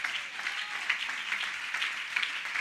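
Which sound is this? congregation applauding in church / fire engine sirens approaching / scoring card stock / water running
congregation applauding in church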